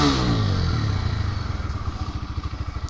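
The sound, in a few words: TVS Raider 125 motorcycle engine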